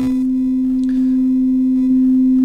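A phone tone generator plays a pure, steady sine wave at 262 Hz, the C note, as a smooth, unbroken hum that holds at constant loudness throughout.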